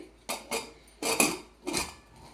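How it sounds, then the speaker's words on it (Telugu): A metal lid clanks onto a pressure cooker in three sharp, close metallic knocks spaced about half a second apart. "కుక్కర్ మూత పెట్టుకుంటున్నానండి"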